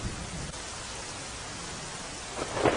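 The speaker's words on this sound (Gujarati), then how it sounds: "ડાંગ જિલ્લામાં ધોધમાર વરસાદ અને અનેક વિસ્તારો જળમગ્ન" Heavy monsoon rain in Dang district pours steadily as a dense, even hiss, with a faint roll of thunder rising near the end.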